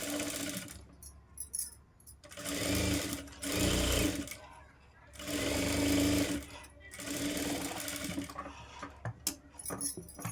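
A domestic sewing machine stitches blouse fabric in several bursts of fast whirring, with pauses and small handling clicks between runs, and someone talks between them.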